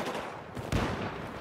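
Dense gunfire from a Battlefield 4 multiplayer match, a steady rattle of shots with a sharper burst near the middle, loud and continuous with no voices.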